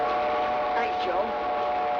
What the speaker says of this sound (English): We have to get on that train that goes through here.